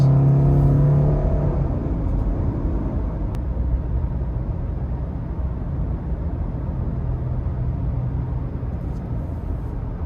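A 2018 Subaru Impreza car drives along with a steady, close engine rumble and road noise that holds loud and even throughout, with a brief rise in engine pitch near the start.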